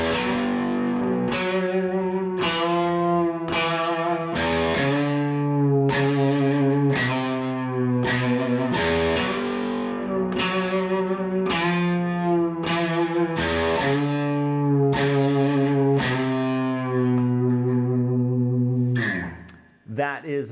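A distorted electric guitar plays a riff, repeating steadily with rhythmic chugging strokes over about twenty seconds, loud and close, ending with a final ringing chord.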